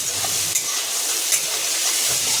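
Garlic fries in a pan for an aloo gajar matar mixed vegetable sabji, making a steady, close sizzling hiss broken by a couple of faint stirring clicks.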